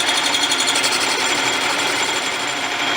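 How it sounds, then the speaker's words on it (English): A lathe turns a chucked pipe while its end is trued and the side cleaned up for TIG welding, giving a steady close mechanical whirr with a fast rattling chatter and no speech. "I got the pipe chucked up in the lathe chuck. I'm doing 2 things here. I'm just truing up the end a little bit"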